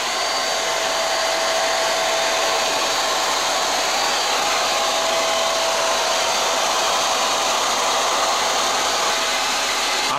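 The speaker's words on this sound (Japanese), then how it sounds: "ドライヤーで食べる前に服は乾かしておこうと思って" A hair dryer blows on damp clothes at an indoor lodging stop during a long bicycle trip, a loud, unbroken whirring roar held close and steady for ten seconds with no voices.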